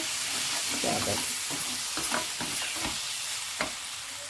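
A spoon scrapes and stirs thick egg and green peas curry gravy with dry masala in a hot pan, giving a steady sizzle and several distinct scraping strokes close by.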